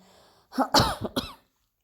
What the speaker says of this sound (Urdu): مجھے کیسی عجیب سی کھانسی ہے کہ جب ایک مرتبہ لگ جائے نا تو وہ جانے کا نام ہی نہیں لیتی